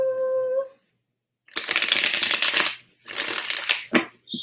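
Tarot cards shuffled by hand in two brisk riffling bursts, close and crisp, after a brief hummed or sung note and a pause.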